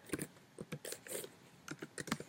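Keys clatter on a computer keyboard in short irregular bursts, close and fairly quiet, with brief pauses between runs of keystrokes.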